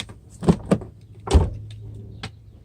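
On a Mercedes CL55 with a repaired door lock vacuum pump and a weak battery, the locks pull in with two quick clunks, then a third heavier thump and a faint final click, close up and without talking.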